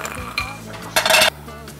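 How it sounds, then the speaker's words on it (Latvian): Hazelnuts toast in a pan, with metallic clinks and scrapes and a short burst of rattling sizzle as the pan is stirred or shaken nearby. "Riekstus apgrauzdēšu uz pannas"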